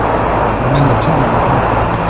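BMW R1250 RT motorcycle cruising in sixth gear through a tunnel, a loud steady engine drone and rushing wind noise filling the enclosed space.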